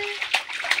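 A child splashing in bath water, a few short watery slaps and gurgles in quick succession at close range.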